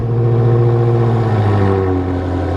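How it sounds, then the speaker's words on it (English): BMW M6 engine on a cold start, a steady loud mid-pitched idle hum with a rough low rumble, holding constant and close throughout with no talking. "M6 cold start."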